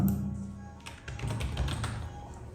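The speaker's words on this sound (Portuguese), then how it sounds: "Vou dar um Enter, vou clicar com a setinha de navegação para cima." A few keys pressed on a computer keyboard, Enter and an arrow key, heard as a handful of soft close taps over a low background hum.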